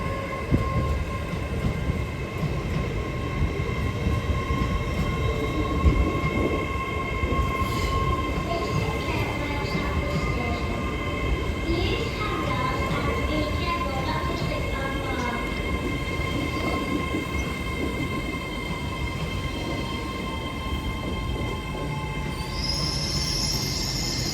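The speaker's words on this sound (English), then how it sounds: "Next service arriving is a linear service after Edinburgh Waverley" An LNER service bound for Edinburgh Waverley pulls into Durham station with a steady rumble and wheel noise that holds for nearly half a minute, a faint high squeal rising near the end.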